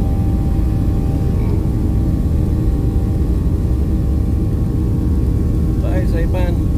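A United passenger jet takes off from Saipan bound for Japan, its engines giving a loud, steady cabin roar and rumble throughout, with faint voices near the end.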